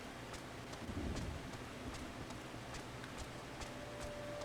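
Soft, steady rainfall in the video game Final Fantasy XIV, a faint even hiss with light scattered patters and a low background rumble, no voices.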